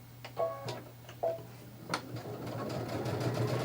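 A domestic sewing machine stitches quilt binding in short, quick whirring bursts, fairly quiet and close, with faint ticking and a steady low hum underneath.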